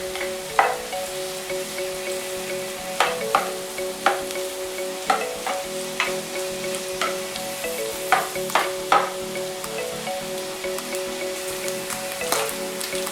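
Onion and ginger sauté in a pan with garlic for Bicol Express, giving a continuous sizzle broken by frequent spoon clinks and scrapes at an uneven rhythm, close and fairly loud, with no voices.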